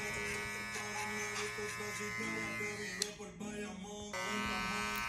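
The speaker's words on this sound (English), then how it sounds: "It's the clipper all the way open, about an inch up." Electric hair clippers, opened all the way for about an inch of length, buzz steadily and close up during a mid skin fade with a beard, with slight shifts in pitch as the blade moves.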